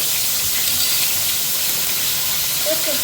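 Dried red chillies, bay leaves and whole cumin sizzle in hot oil for a Bengali moong dal with fish head, a steady broad hiss that stays close and even throughout, with no voices.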